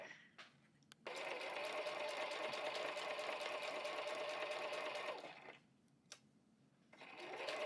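A sewing machine runs a steady, loud, fast stitching whir for about four seconds as it sews the bottom seam of a small house-shaped fabric phone case, with short quiet pauses and handling clicks before and after.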